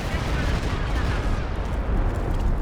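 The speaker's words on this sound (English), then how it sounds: "Another Stuka barrage coming in for the middle." Stuka dive-bomber barrage striking in a World War II strategy game match, a dense continuous roar of explosions and rumbling impacts, loud and sustained throughout, with faint voices in the mix.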